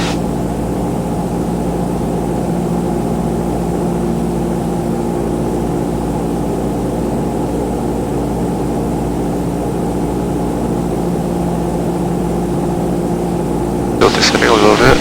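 A small propeller airplane drones steadily in flight with a constant engine hum and cabin noise, the power rising slightly toward the end, while people talk in the cockpit.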